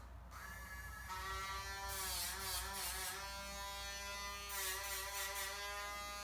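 A Dremel rotary tool grinds down a dog's nails, giving a close, steady high-pitched electric buzz that dips and wavers in pitch each time the bit presses against the nail.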